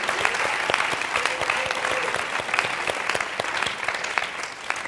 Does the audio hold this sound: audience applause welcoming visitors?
yes